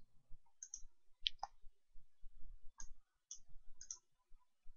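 Sharp, light computer mouse clicks in a quiet room, several single and double clicks spaced irregularly over a few seconds.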